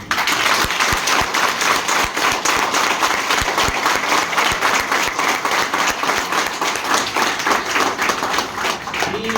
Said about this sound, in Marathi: इथं स्वतःच्या आई वडिलांसाठी जोरदार टाळ्या